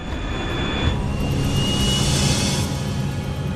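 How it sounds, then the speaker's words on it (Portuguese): A jet airliner roars at full power, a loud sustained rumble with a high engine whine, its pitch shifting as it climbs. "O avião levanta voo da pista"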